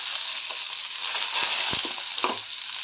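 Onion, curry leaves, garlic, ridge gourd and tomato sizzle and fry in a pan, a steady hiss broken by a few stirring scrapes and knocks.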